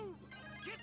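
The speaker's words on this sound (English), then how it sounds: "sorry, that's my phone." A phone ringtone chimes briefly and fairly quietly with tonal electronic notes, playing over game audio during a Company of Heroes 2 match.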